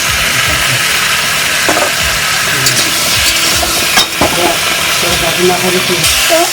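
Chili and ginger paste sizzles and spits in a hot pan, a steady loud frying hiss with occasional clatters of a spatula, running continuously with no talk over it.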